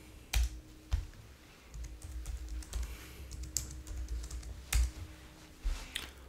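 Fingers tap a computer keyboard while SSH terminal commands are entered on Linux Mint. The keystrokes come as close, irregular clicks, with a few heavier thumps mixed in, and there is no talking.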